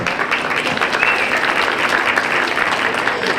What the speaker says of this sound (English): class a round of applause, please.